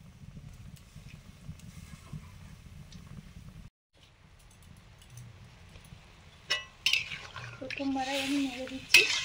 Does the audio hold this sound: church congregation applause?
no